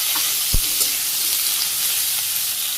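Cumin, bay leaf, fenugreek and papaya pieces hit hot oil in a village kitchen and set off a loud, continuous sizzle, opened by a single low thud as the ingredients drop into the pan, with no talking.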